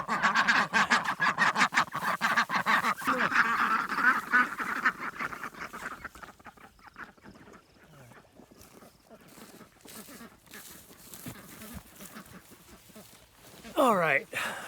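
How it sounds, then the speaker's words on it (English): Dense, overlapping duck quacking from a flock, loud and busy at first, then thinning into scattered calls with a brief louder burst near the end. "All right, those were the ducks."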